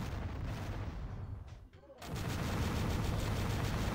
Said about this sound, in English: To burn these flash missiles.